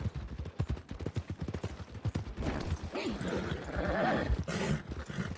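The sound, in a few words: horse hooves clip-clopping in a video game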